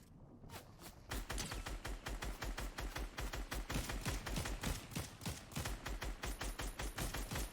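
Fortnite Battle Royale gunfire, a long rapid run of sharp shots in steady automatic rhythm after a brief quiet start, close and loud throughout with no talk.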